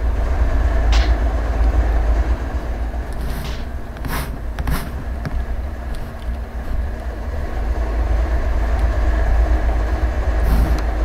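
Rumble of a train rolling through an Amtrak rail yard in the Run8 train simulator game, a steady low drone with brief higher rail squeals and clanks throughout.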